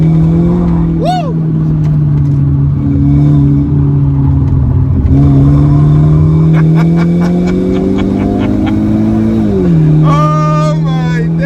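A BMW 1 Series E88 accelerating hard through bends: loud, close engine drone rising in pitch, with brief tire squeal and gear changes toward the end, continuous throughout.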